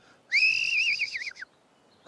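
A single loud, sustained human whistle calling horses, steady at first and then wavering and trailing downward, sounds alone in a quiet outdoor setting in the Atacama, Chile.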